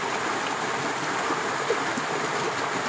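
A clear river used for recreation rushes in a steady, broadband wash that is loud and close, with no talking over it.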